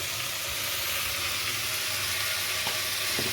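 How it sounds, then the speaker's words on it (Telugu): Tomatoes fry in a pan for an aloo-peas kurma, giving a steady, close hiss and crackle of sizzling oil that holds evenly throughout with no talking. "టమాటాలు కొంచెం మగ్గాలండి టమాటాలు ఫ్రై అయిపోయాయండి బాగా"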